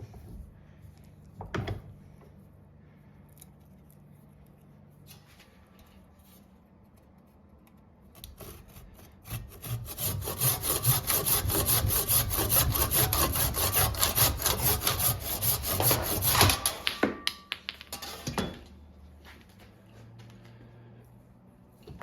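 Hand sawing through excess material, starting after a quiet pause with a few tentative strokes, then a fast, steady run of rasping back-and-forth strokes for about eight seconds, close and fairly loud, ending with a couple of knocks.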